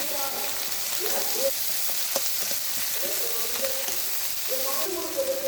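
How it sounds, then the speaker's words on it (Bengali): A spice paste of ground dried chili, turmeric and Kashmiri red chili powder fries in a pan with a steady hiss and a few scraping stirs, while faint speech-like sounds flicker in the background. "কাশ্মীরি রেড চিলি পাউডার দিয়ে ভালোভাবে একসঙ্গে মশলাটাকে কষিয়ে নিচ্ছে"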